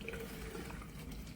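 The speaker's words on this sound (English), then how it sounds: "I'll turn off the water." Water running steadily from a tap in a distillation setup, a continuous, fairly soft gushing rush heard on its own for a brief moment.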